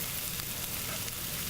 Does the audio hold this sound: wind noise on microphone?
no